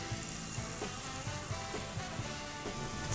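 Spelt buttermilk pancake batter sizzles steadily in a buttered non-stick pan, a close, continuous frying hiss with faint soft pops scattered throughout and no talking.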